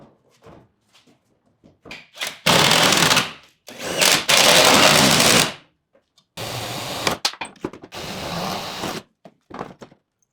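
A power drill drives screws through a scrap plywood packer into tin cladding: two long loud whirring bursts, then two more shorter runs, separated by quiet gaps with small handling clicks and knocks.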